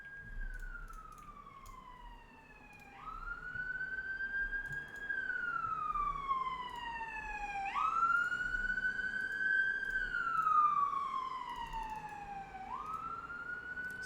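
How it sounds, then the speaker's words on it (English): An emergency siren wails outside near a hospital, rising and falling in long sweeps with harmonics, moderately distant and steady over faint background rumble, with no voices. "Sorry if you can hear that siren"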